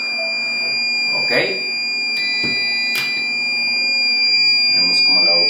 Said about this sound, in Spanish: Vemos como la UPS se nos alarma por una sobrecarga.